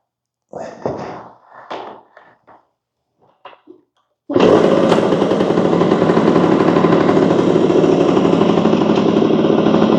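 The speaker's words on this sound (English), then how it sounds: "I'll fire it up for you just so you can hear it" A brand-new 1982 Yamaha DT80 enduro two-stroke motorcycle is kicked over several times with scuffing clunks, then catches. It settles into a loud, close, steady buzzing idle that continues to the end.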